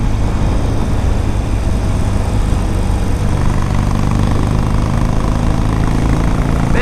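A 2006 Harley-Davidson 883 Sportster motorcycle engine rumbles steadily and loudly throughout, a continuous low-pitched drone with wind and road noise during a test ride, no voices.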